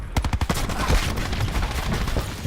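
Rapid burst of pistol gunshots in Black Ops 4, around eight sharp cracks in quick succession, followed by a dense roar of continued in-game gunfire and rumble.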